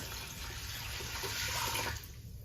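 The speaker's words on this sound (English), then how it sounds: "So I'm gonna add 4 cups of water." Four cups of water poured into a pot for elderberry syrup, a steady close rushing splash that runs for about two seconds and then drops off.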